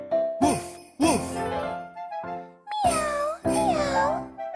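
A voice imitates a cat meowing in a children's pet song, with several drawn-out sung meows in a bright, clear tone, separated by short pauses.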